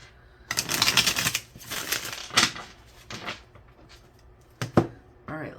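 Tarot cards being shuffled by hand in a series of papery riffling bursts, close and fairly loud, with short pauses and a couple of sharp snaps near the end.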